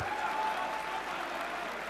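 A home crowd in a basketball arena claps steadily during a free-throw break, a dense, even wash of applause heard from a distance.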